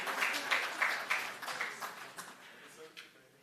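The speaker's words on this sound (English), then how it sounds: "So give a round of applause." Applause from an audience at an educators' data protection awards ceremony, a burst of clapping that fades over a few seconds, with a voice speaking over it.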